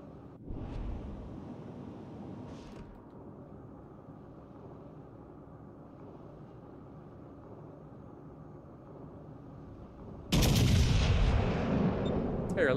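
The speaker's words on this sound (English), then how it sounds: "Fire your guns again." Naval guns fire in the World of Warships Legends video game, with a heavy boom near the start, a fainter one soon after, then a long low rumble before a loud, sustained blast of gunfire near the end.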